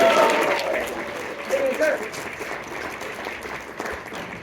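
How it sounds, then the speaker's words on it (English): Audience applause for comedian Mike Glab at a casino comedy show, steady crowd clapping for several seconds with a host's voice talking over it. "Let's clap for Mike."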